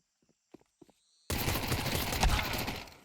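Pistol gunfire in the video game Counter-Strike on the Ancient map: a few faint clicks and taps, then a sudden loud burst of rapid shots and in-game action that continues to the end.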